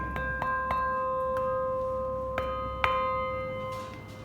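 A Taylor church bell at Saint Paul's Anglican Church in Manuka is struck in a series of irregular clangs, each leaving a long humming ring that decays slowly, close and moderately loud with no talk.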